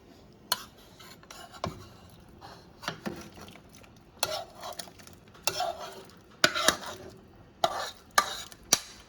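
A spoon scrapes and clacks in a pot as shrimp are stirred into a chicken and sausage gumbo, with irregular knocks and scrapes close up, fairly quiet.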